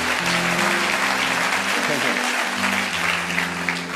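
Church congregation cheering and applauding during worship, clapping and voices rising together over sustained organ or keyboard chords, loud and continuous.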